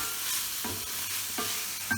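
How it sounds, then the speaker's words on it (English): Mushrooms sizzle steadily in a hot pan as they cook down for a pork chop dinner, a close, constant hiss broken by a few soft stirring scrapes. "You can see the mushrooms are cooking down very nicely."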